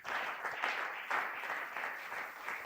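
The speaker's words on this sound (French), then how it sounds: "Acclamons encore pour la gloire" A congregation applauds through a Sunday praise and thanksgiving church service, the clapping continuous and fairly loud, swelling in waves, with no talk over it.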